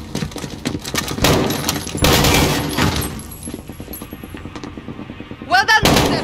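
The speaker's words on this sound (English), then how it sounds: "Point and shoot until they fall" Loud bursts of gunfire as guards are ambushed in Call of Duty: Modern Warfare 2019, heavy volleys and rapid automatic shots in irregular clusters, tapering off before a final short burst.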